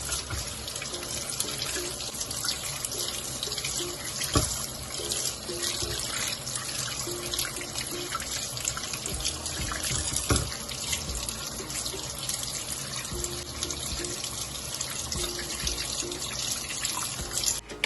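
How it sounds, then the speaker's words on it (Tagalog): An apple is washed under a running kitchen tap, a steady close stream of water splashing into a sink throughout, with a few faint knocks and drips. "So, we will just wash our apple."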